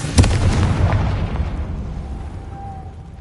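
Confringo blasting spell from the Hogwarts Legacy video game going off as a sharp explosive burst with a low rumbling boom that fades over a few seconds.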